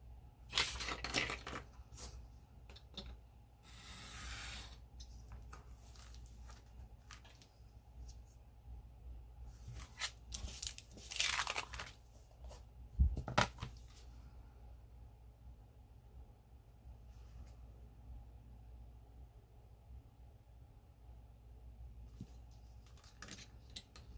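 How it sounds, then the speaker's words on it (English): Scissors trim an end off a sheet of paper for a craft project: a few quiet, close, crisp snips with soft paper rustling between them, and the rest of the room fairly silent. "So I'm just going to trim this end off."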